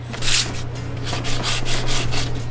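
Sandpaper on a soft block rubbed by hand over a plywood shotski, giving close, steady back-and-forth scratchy strokes in a fairly even rhythm.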